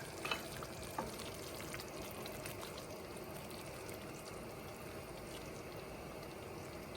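Heavy whipping cream is stirred into ravioli in a hot pan, giving a soft, steady sizzle with faint scraping and stirring clicks at a low, distant level, with no voices.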